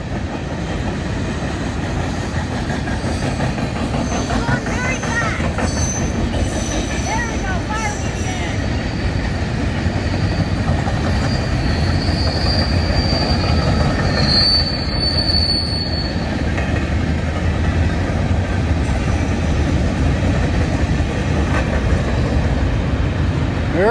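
A long CSX freight train rolls past continuously, with loud steady wheel rumble and clatter and high squealing from the wheels, while people speak faintly beneath the noise.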